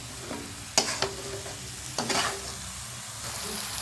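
Duck meat stirred and fried in a pan in a home kitchen, with a few sharp scrapes of a spatula over a low steady sizzle, close and moderately loud, no talking.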